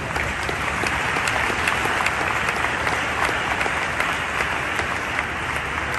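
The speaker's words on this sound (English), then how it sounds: "Big applause for everyone." Sustained, steady applause from an audience at a travel and tourism industry event, dense clapping filling the whole stretch without pause.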